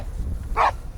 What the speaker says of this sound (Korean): 개 짖는 소리가 들린다.